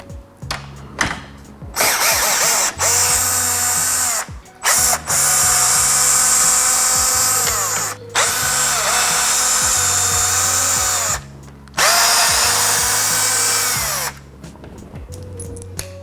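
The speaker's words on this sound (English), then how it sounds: "we're gonna be using a power drill" A power drill drives out the front grille bolts on a 4th-gen Ram 1500 pickup, whirring loudly in several long bursts separated by short pauses, with the motor pitch rising and falling as each bolt spins free.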